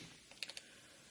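Computer keyboard typing while entering a pool water pH reading into a record log: three or four quick, light key taps in a short burst, close and quiet, with no talking.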